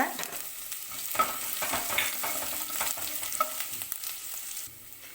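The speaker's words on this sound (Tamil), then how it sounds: "சேர்த்துட்டு நல்லா பச்சை வாசனை போகிற வரைக்கும் வதக்கிக்கோங்க" Garlic and ginger fry and sizzle steadily in a pan with occasional stirring clinks, close and moderately loud with no talk, while cooking a brinjal thokku.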